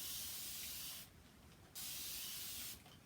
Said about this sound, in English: So I'm going to take my little mister and I'm just going to go ahead and spray.